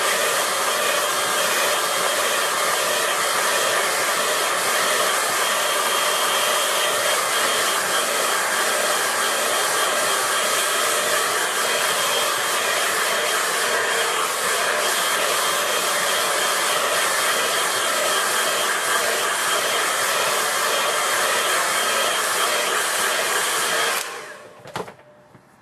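A hair dryer blows steadily at close range over wet watercolor paint on paper, a loud continuous whoosh and hum that runs unbroken for about twenty-four seconds before switching off abruptly near the end.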